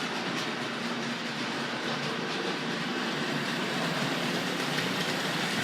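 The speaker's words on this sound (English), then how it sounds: "So I'm going to get the Dublo train underway now." Hornby Dublo model train running steadily on its track, a continuous close whirring rumble with faint rhythmic clatter throughout and no voices.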